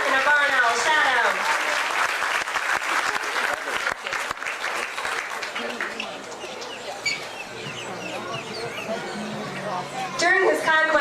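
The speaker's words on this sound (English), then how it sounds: "How about a nice round of applause for Mark and our barn owl, Shadow?" Audience applauding at a live barn owl show in Florida, steady dense clapping filling the whole stretch, with a voice talking over it and some high chirpy sounds near the end.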